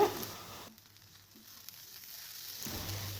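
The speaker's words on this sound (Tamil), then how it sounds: "ஜவ்வரிசி சேர்த்துட்டு நல்லா கைவிடாமல் கலந்துக்கோங்க ஸ்டவ் வந்து மீடியம் ஃப்ளேமில் வச்சு நல்லா கலந்துக்கோங்க" Sago pearls and green gram sauté in a pan over a medium flame: a soft sizzle at the start fades quickly to near quiet, then a faint frying hiss returns toward the end.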